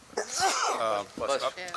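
A single sharp human sneeze bursts out at a council meeting in Roselle Park, loud and close, followed at once by voices talking nearby.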